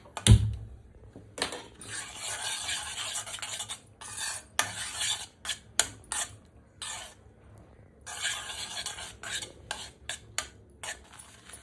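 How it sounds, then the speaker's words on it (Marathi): Khoa being stirred continuously in a pan over a slow flame, heard as intermittent scraping and clinking of a spoon against the pan in short bursts separated by quiet gaps. "तर हा जो खवा जो आहे तो आपल्याला सतत ढवळत राहायचा आहे"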